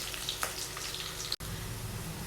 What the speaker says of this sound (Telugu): ఈ తాలింపు అంతా కూడా గోల్డ్ కలర్లోకి వచ్చేంత వరకు ఫ్రై చేసుకోవాలండి.